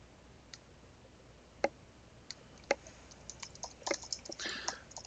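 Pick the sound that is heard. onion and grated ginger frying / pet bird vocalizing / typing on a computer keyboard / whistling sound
typing on a computer keyboard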